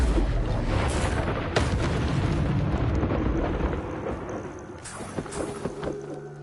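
Incendio fire spell blasts in Hogwarts Legacy, a continuous roaring, rumbling burst of fire with sharp cracks and booms layered over it, loud and close throughout.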